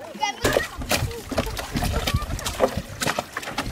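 Water splashes and sloshes as a small boat is bailed near a sailboat in the Florida islands, in uneven bursts mixed with loud voices talking and exclaiming close by.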